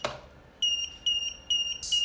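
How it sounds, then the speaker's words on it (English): An Apple battery tester warning of a low, nearly drained battery, sounding a series of four sharp, high electronic beeps in a regular rhythm, close and clear with no talk. "It's keep beeping because it's running out of battery, so the voltage is low."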